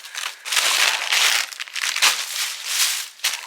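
Plastic bag crinkles and crushes close up in bursts of papery rustling, loud and continuous with brief pauses, while a giant inflatable Rudolph Christmas decoration is unpacked.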